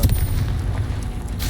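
A Confringo explosive spell in the Hogwarts Legacy video game lands with a loud, heavy boom, its rumbling low blast sustained across the whole moment amid game combat noise.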